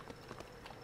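A horse clip-clops along in the Bioshock Infinite video game, its hooves giving faint, soft, evenly spaced knocks in a quick rhythm beneath a low background wash.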